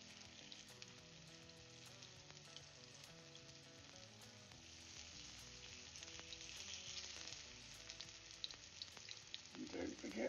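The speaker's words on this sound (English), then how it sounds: "We wanted the sizzle." Steady, loud sizzling and crackling of courgette fritters frying in hot oil, continuous throughout with a few sharper pops toward the end.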